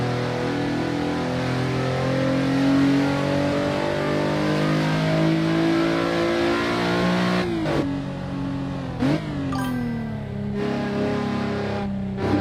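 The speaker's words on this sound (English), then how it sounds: "these cars are super loud" Racing car engines in Assetto Corsa roar steadily at high revs, a loud sustained whine near the listener, broken by a few sharp gear-shift dips and revs rising again toward the end.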